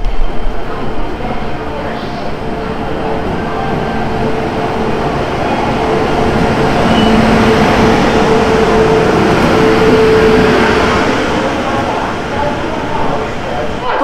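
The Kaziranga Express pulls into a station platform at night with a loud, steady rumble and rolling clatter that swells and eases, with faint squeals and people talking over it.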